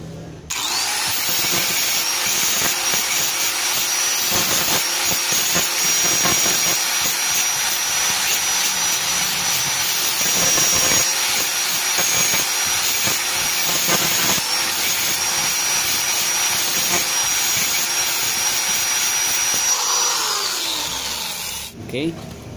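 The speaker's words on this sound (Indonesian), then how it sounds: "Lalu kita gerinda." An angle grinder cuts and shapes a small pin made from an old nail, for repairing a stripped bolt thread on a Yamaha F1ZR piston block; a loud, steady grinding whine runs nearly the whole time, close up, stopping near the end.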